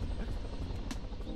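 A helicopter in the video game Totally Reliable Delivery Service produces a steady whirring rotor drone, continuous and moderately loud throughout, with a faint voice briefly underneath.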